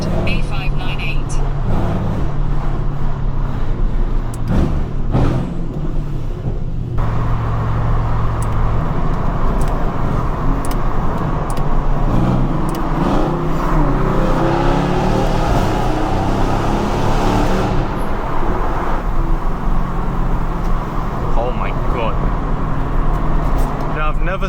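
A Mercedes-AMG C63S cruises through London streets, its engine a loud, continuous drone that swells and settles with the driving, while voices talk over it throughout.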